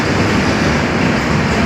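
A train arriving at Kokrajhar station rumbles loudly and continuously close by, a dense roar of wheels and carriages with no pauses.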